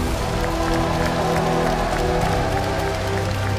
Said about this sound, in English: The biggest cheer then for Team iRider